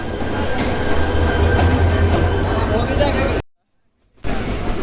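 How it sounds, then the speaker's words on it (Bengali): Loud rumbling of an arriving train at a station with a dense mechanical roar and crowd noise nearby, cut by a brief silent gap before resuming. "চলে আসছে ট্রেন প্রায় দশ পনেরো মিনিট লেটে"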